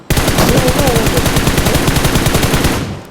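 Rapid automatic gunfire from an M416 rifle in the video game PUBG Mobile, a loud, continuous burst of evenly spaced shots lasting about three seconds, close and dominant.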